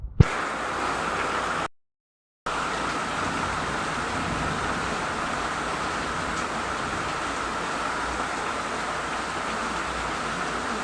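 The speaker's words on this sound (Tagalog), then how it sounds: "Umuulan, lagot." Steady, dense rain pours down continuously, a broadband hiss with a brief dropout early on, with no voices present.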